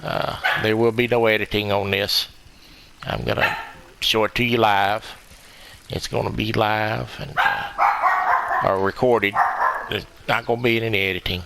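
A dog barks in short bursts nearby during a bass fishing tournament on a boat, its barks overlapping and alternating with someone talking steadily.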